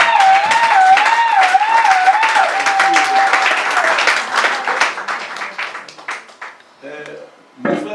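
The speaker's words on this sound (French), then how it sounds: "j'aimerais que vous acclamez de nouveau encore" A church congregation applauds steadily at a pastor's anniversary service, clapping loudly and continuously under a singing voice before the sound thins out and fades near the end.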